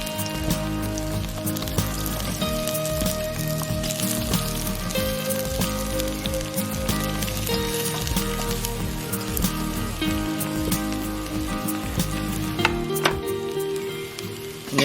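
Onions frying in a pan for Kerala egg roast, a dense continuous crackling sizzle that stays loud and even throughout, with a low hum underneath and no speech.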